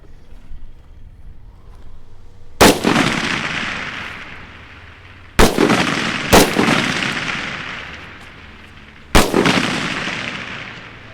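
Rifle shots fired during a sniper contest, four loud, sharp cracks, each trailing into a long rolling echo, with irregular gaps between them and no talking.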